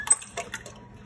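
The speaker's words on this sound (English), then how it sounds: "You pour the cream into the mixer" Heavy cream poured into a mixer bowl for homemade butter, heard as a few close, short splashy liquid bursts that fade into quiet pouring, with no talking.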